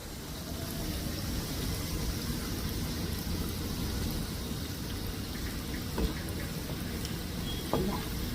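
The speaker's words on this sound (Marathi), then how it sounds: "करंज्या थोड्या तेलामध्ये जास्तच टाकायचं तेल मिडियम तापलेला आहे" Fresh coconut karanji fry in medium-hot oil with a steady, dense sizzle and bubbling, a constant close crackle that holds evenly throughout, broken by a couple of faint clicks, with no voices.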